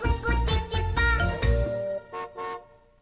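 Playful toy-like car horn toots in a children's song, a quick run of bright honks with musical backing, then two short separate beeps near the end, close and clear.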